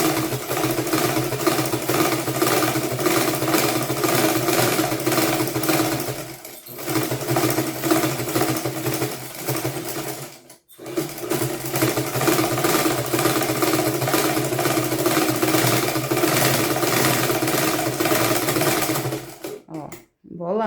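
Black domestic sewing machine running steadily as it stitches plain cloth and knit fabric, a continuous loud motor whir with two short pauses, nothing spoken over it.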